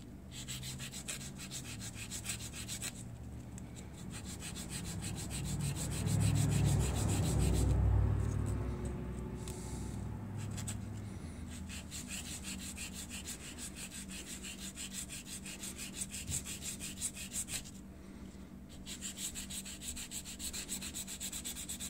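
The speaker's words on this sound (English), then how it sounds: "So I'm going to sand it down a little bit." Hand sanding of a small model part for a Titanic wreck diorama, a steady scratchy rubbing of abrasive strokes repeated in a close, quiet rhythm, briefly louder midway, with short pauses and no talk.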